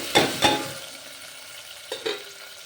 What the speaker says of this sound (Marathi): आता टाकते मी टमाटर कट करून घेतलेलं अर्धा